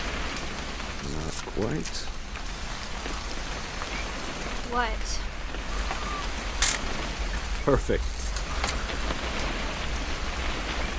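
In What Remains of Edith Finch, steady rain hisses evenly throughout while people exchange a few short words over it, with a couple of sharp clicks standing out.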